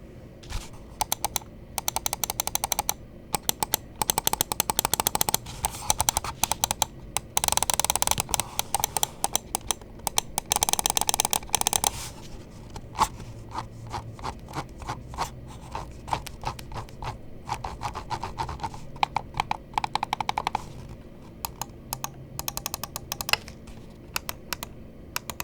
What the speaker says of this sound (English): we will drop a click quality sound test